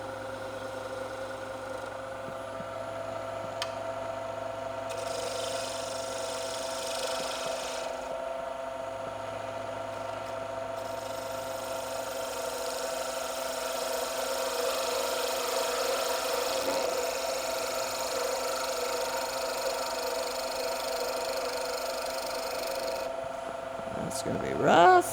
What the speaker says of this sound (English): I'm just going to finish this with the roughing gouge.